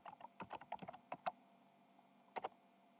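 Typing a username on a computer keyboard at a Linux login prompt: a quick burst of sharp key clicks, then a pause and two final taps, close and clear with no talk.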